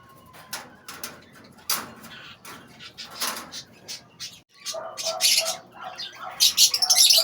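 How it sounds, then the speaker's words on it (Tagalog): Pet birds chirp and squawk close by, short sharp calls scattered at first and then growing busier and louder toward the end, with no one speaking. "Ayun guys, ang mga ibon ko."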